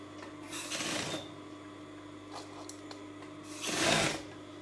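A sewing machine runs straight stitches down a dress seam in two short, quiet bursts, the first near the start and the second near the end, with a low hum and a few faint taps between them.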